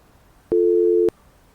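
A phone line sounds a single steady busy tone after a call is cut off, loud and clean for about half a second and then stopping, with quiet room noise around it.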